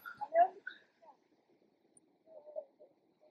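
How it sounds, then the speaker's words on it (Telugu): A dog out on an autumn evening walk in Ireland gives a few short, faint yips and whimpers, clustered at the start and again near the end, with quiet gaps in between. "ఈ కుక్క చూడండి"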